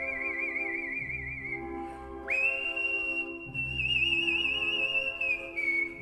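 A professional whistler whistles alone, holding long sustained melodic notes with steady vibrato, clear and close, with smooth pitch shifts between phrases.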